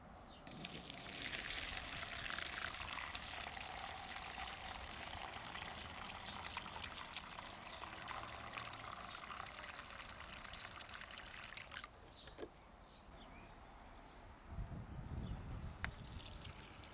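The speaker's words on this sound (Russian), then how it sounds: "Лейку доверху наполняю водой. И поливаю по 1 литру на куст." Water streams steadily from a watering can onto soil and zucchini leaves, a continuous close trickle with a brief pause and a splashing burst near the end.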